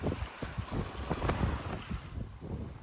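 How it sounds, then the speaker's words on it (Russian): Surf washes along a bay shore under heavy wind buffeting the microphone, a continuous rough rush with uneven surges and no clear bird calls. "Шум прибоя и крики чаек."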